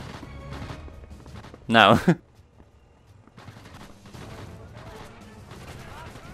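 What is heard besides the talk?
gunshots in Sniper Elite VR video game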